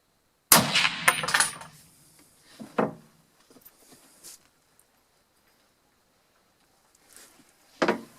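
A gunshot while zeroing a red dot sight on a Contessa SB02 quick-detachable mount: one sharp close report with a ringing tail, followed by faint scattered clinks and a second sharp bang near the end.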